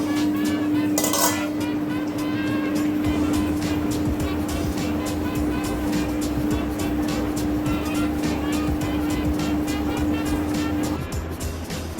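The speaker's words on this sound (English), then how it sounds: "we have to mix both the batters in a large bowl" Horsegram idli and dosa batters being mixed together in a large bowl, giving a steady run of scraping and clinking from the bowl against a constant background hum, with no talk.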